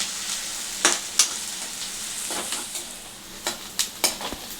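Green chillies and chopped onions fry in oil in a pan for a village-style spinach egg curry, a steady close sizzle broken by several sharp scrapes and clinks of a spoon stirring.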